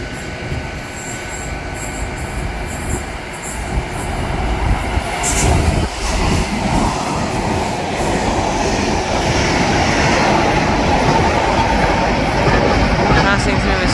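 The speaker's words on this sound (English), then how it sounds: "Passing through now is DB Rail Freight." A DB Rail Freight train passes at speed through Newton Abbot station in Devon, a loud steady rumble with rail clatter building and sustained throughout, with someone talking briefly.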